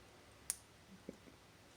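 Soft mechanical clicks from the windage dial on a PSE Viper SS handheld crossbow, a few faint separate ticks in otherwise quiet surroundings.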